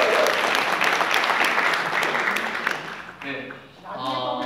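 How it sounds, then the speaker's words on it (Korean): Applause from an audience at a national security strategy workshop held in Andong, a lively burst of clapping that fades after about three seconds as a voice begins talking. "뜨거운 박수 부탁드리겠습니다"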